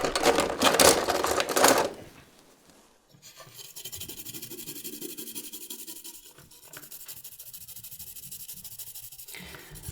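A toothbrush scrubs an LED POV wand circuit board clean. About two seconds of loud, bristly scrubbing are followed by a brief pause, then quieter scratchy rubbing that continues to the end.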